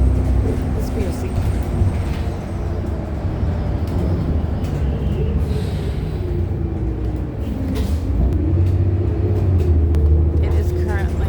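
Engine rumble and road noise fill the inside of a moving city bus at night, a steady low drone with a few faint rattles and shifts in pitch.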